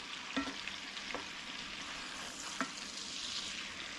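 Swedish meatballs fry in butter in a pan, giving a steady soft sizzle with a few scraping clicks of a utensil stirring them, close by and with no talk.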